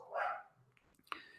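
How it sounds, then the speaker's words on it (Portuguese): Dogs from the surrounding neighbourhood barking, one loud bark at the start followed by fainter, scattered yelps in the distance, heard from indoors during a physics lecture. "Peço desculpas pelos cachorros aqui da vizinhança, que eles estão bastante agitados."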